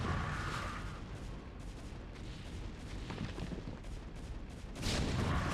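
Siege tank cannons in a StarCraft match fire a dense barrage of booming blasts and crackling explosions, one thick wash of battle noise with no talk.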